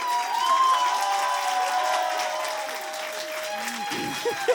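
Applause and cheering from a studio audience at a blind-date show, a moderate steady wash of clapping with voices and whoops mixed in, tapering toward the end as someone speaks.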